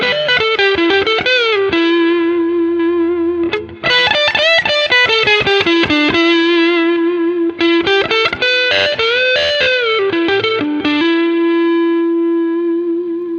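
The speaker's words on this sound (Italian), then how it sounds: "Andiamo a sentire con un po' di coil split, anzi con il coil split." Schecter C-1 Exotic Spalted electric guitar played through distortion with its pickups coil split, a driven, sustained lead of bends and picked notes, loud and continuous with no talk.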